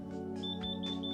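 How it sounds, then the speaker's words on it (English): A mobility scooter programmer sounds an electronic alarm after a setting change, a repeated high beeping tone pulsing several times over a steady droning hum. "we have the alarm sounding telling us that it just made a change"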